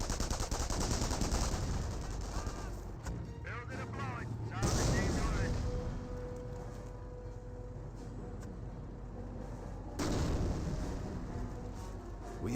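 Gunfire and explosions from the World War II strategy game Company of Heroes, with rifle shots, machine-gun bursts and heavy booms rolling under a commentator's continuous talk.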